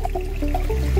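A modest flow of water trickles and gurgles out of flood-and-drain grow bed plumbing, a brief, close, bubbling splash.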